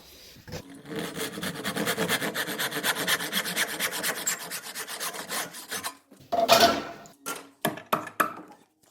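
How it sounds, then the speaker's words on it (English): A tenon saw cuts through solid timber by hand while a traditional external door is being made: a steady run of close, rhythmic rasping strokes, then a pause and a few short, sharper final strokes. "Obviously at this point you use a proper tenon saw."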